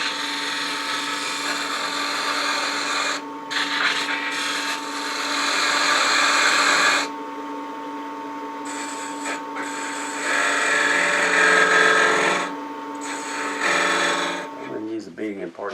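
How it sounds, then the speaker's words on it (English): Wood lathe spinning as a spindle gouge cuts an antique-style bedpost finial, a steady high whine with a constant motor hum, broken by short pauses and shifting cutting noise, fairly close and continuous. "maybe I will use a spindle gouge to get in there"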